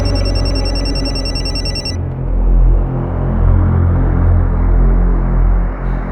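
A mobile phone left behind at home rings with a repeating electronic ringtone for about two seconds, then cuts off, leaving a low rumbling hum.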